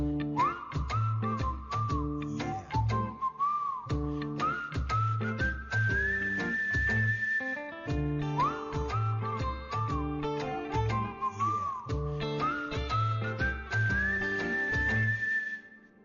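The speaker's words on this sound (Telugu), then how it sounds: "అయితే హాఫ్ టైం విజిల్ కొట్టేద్దాం." A half-time whistle is blown in a hospital setting, heard as repeated rising whistle tones over a busy musical backing, sustained loudly throughout without talk.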